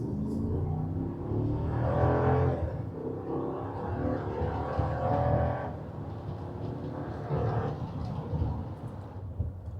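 A poorly maintained salvage fifth-generation Ram 1500 pickup truck engine revs up in strong surges, the low rumble rising and falling several times close by.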